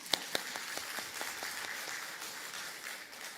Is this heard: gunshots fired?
no